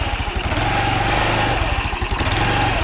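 A Super Scoot scooter engine idles steadily on its stock exhaust, a close, continuous low putter with a rapid regular pulse and no voices over it.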